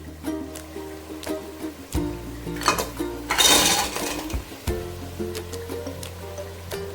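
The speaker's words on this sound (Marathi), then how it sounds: "आता मिक्स झाल्यावर यात मी खेकडे घालून घेतो" Crabs dropped into a pan of green masala sizzle and clatter against the metal, with a burst of frying hiss in the middle and stirring scrapes before and after, close and fairly loud.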